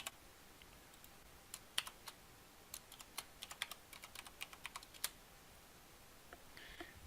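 Scattered keystrokes on a computer keyboard as a username and password are entered, quiet and close with uneven pauses, no talk.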